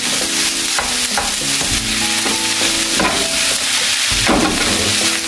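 Fried rice with scrambled egg and petai being stirred in a hot pan: loud, close scraping of a spatula against metal over a constant sizzle, with repeated clanking strokes.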